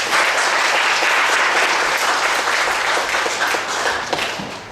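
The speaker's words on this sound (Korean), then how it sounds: "박수로 환영합니다" A church congregation applauds to welcome a newcomer at a Sunday service, a dense, loud, sustained wash of many hands clapping that fades slightly toward the end.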